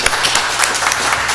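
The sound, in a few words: round of applause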